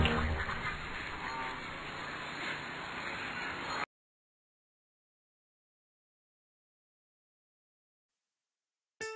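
Cartoon ducks quack over a children's nursery rhyme track for about four seconds, then silence follows until a brief sound at the very end.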